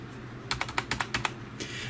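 Fingers type on a SteelSeries Apex 100 full-travel business keyboard with weighted keys, about nine quick, clear keystrokes in a brisk burst, close and distinct, with no talking.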